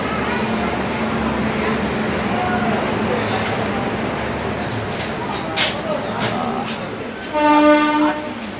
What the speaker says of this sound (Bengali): এই হচ্ছে পদাতিক এক্সপ্রেস